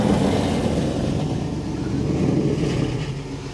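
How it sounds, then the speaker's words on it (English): A 1968 Camaro SS muscle car with an LSX-swapped V8 revs in a loud, steady roar, close by, holding a dense low rumble throughout with no break. "Jim, rev the engine for me, sir."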